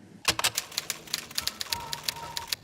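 A manual typewriter clacks out a steady run of sharp, close keystrokes, with a sustained tone running beneath the later strikes and no voices.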